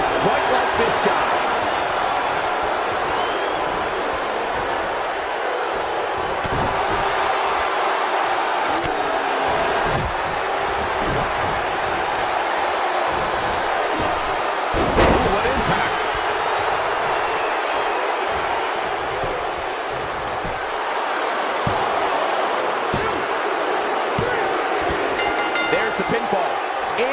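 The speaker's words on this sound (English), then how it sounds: "We've got a raucous crowd here in Philadelphia" Raucous wrestling crowd in a Philadelphia arena, a continuous roar of cheering and chanting with thumps and slams from the ring, while a commentator talks over it.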